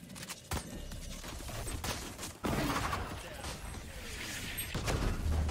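Gunshots in Valorant, several sharp reports and a burst of fire spaced unevenly across the stretch, loud against steady game noise, with a voice talking at times.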